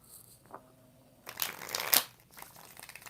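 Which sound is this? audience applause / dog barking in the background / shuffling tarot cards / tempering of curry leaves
shuffling tarot cards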